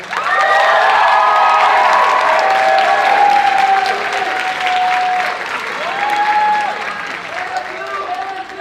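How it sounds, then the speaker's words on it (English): A culture show audience of Filipino Americans at Madison gives a big round of applause for the choreographers, loud dense clapping with cheering voices and shouts rising over it, holding strong before thinning slightly toward the end. "if we could get a big round of applause for these people"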